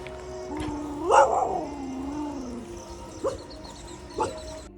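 A lone dog outdoors near a fort gate barks and yips in short bursts: one louder, drawn-out bark-whine, then two brief sharper barks, moderately close against a quiet background.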